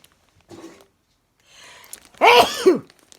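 A person sneezes once, loudly and close, after a couple of short breathy intakes that build up to it; the burst is sharp with a quick tail.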